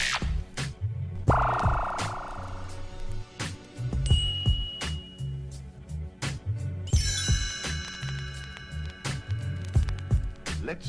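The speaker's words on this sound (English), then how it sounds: "You will know it is time to turn the page when you hear the computer sound like this." A computer-style chime on a read-along record signals a page turn, with bright electronic pings and tonal beeps sounding among musical hits, rhythmic percussion and a warbling melody.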